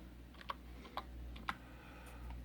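Typing on a computer keyboard, with a few distinct, quiet key clicks spaced about half a second apart over a low steady hum.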